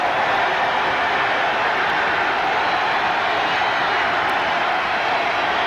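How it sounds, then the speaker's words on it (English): A loud, dense roar from the crowd at a 1988 Florida State versus Tulane college football game in the Superdome, sustained and unbroken throughout with no distinct voices rising above it. "Listen to the crowd now in the Superdome."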